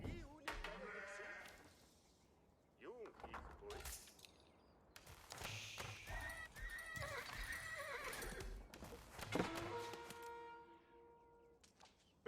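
Horses neigh and whinny amid sheep bleats and clip-clopping hooves in a 3v3 Age of Empires 4 battle, several loud calls spread across the stretch over game noise.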